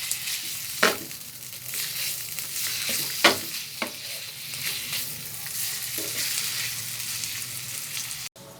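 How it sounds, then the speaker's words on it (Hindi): Minced meat keema with added fat fries on a tawa while being stirred: a constant sizzle broken by several sharp spatula scrapes and clacks against the pan, close and loud, with no talking. "हमने कीमे में थोड़ी सी चर्बी भी ऐड की है, इसे अच्छे से मिक्स करेंगे"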